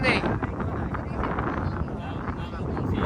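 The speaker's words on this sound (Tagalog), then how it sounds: "ito pala yung maingay kapag ka mahangin" Steady, roaring wind buffeting the microphone outdoors on a beach, a continuous loud rumble with gusty swells and no clear pauses.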